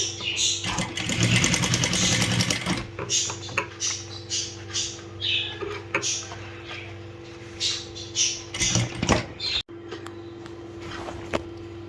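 A sewing machine stitches a sleeve: a sustained humming whir for several seconds, then a series of short, start-stop bursts of stitching close by.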